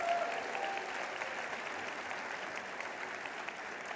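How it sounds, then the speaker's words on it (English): An audience at a mayor's State of the District address claps continuously, a steady, even roar of applause that stays at moderate, fairly distant level throughout. "Let's give her a big round of applause."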